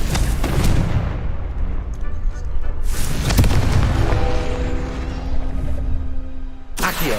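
The Confringo blasting spell in Hogwarts Legacy fires off loud, booming explosions, with big bursts at the start, in the middle and at the end over continuous rumbling game noise.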